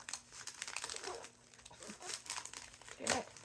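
Paper crinkling and rustling as a pet moves across it, in soft irregular bursts with a sharper crunch near the end, close and fairly quiet.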